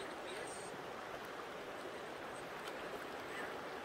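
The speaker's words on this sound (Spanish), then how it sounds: "Vean el arroyo." Steady rushing and babbling of a stream in an outdoor picnic spot, broadband and constant, with faint voices underneath.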